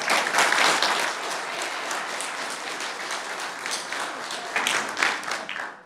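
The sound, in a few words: audience clapping at board meeting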